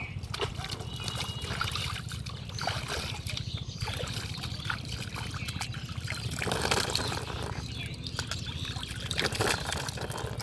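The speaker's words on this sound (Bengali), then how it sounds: "দাঁড়াও হাত মুখটা ধুয়ে নেই" Tap water runs steadily while someone washes hands and face, a continuous trickling, splashing stream close by with faint voices in the background.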